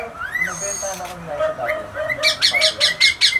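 Shrill, repeated Indian ringneck parakeet calls ring out close by at an exotic animal farm, building into a rapid series of harsh squawks toward the end.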